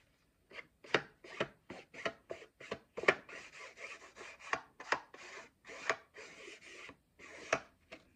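Green and red StazOn ink is dabbed onto a surface in a quick run of soft, close pats and rubs, about twenty dry taps in an uneven rhythm, with no talk.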